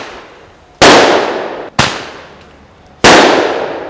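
Firecrackers burst in three loud, sharp bangs spaced about a second apart, each followed by a short decaying crackle and rumble.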